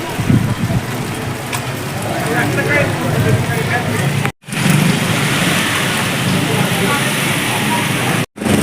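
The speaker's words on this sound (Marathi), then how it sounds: "पाऊस जोरात भाविक पण भरपूर आहेत" Heavy rain pouring at a temple, a loud, dense, continuous hiss of downpour close by, with a person talking over it and two abrupt brief cutouts.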